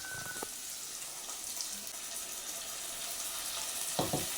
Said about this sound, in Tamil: வதக்கிக்கலாம். நல்லா வதங்கிட்டுங்க. வெங்காயம் வதங்கிடுச்சுங்க.